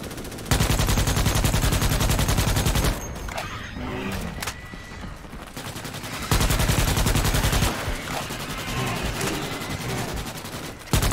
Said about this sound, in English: I shoot my own teammates.